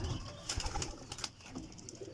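Paired pigeons in a loft coo and rustle close by, with soft repeated calls and wing flutters over a noisy background.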